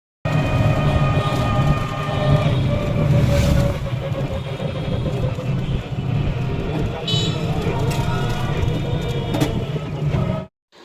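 Steady rumble of a moving train carriage in a suburban Kolkata-area local train, with continuous wheel and rail noise and faint background voices throughout, ending abruptly.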